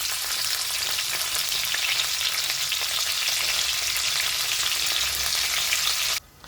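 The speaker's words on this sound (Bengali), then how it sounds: "এটা সবটাই একসাথে দিয়ে ভাজতে থাকবো।" Chopped onion and scallions fry in hot oil with a steady, loud, continuous sizzle that crackles throughout, then cuts off abruptly near the end.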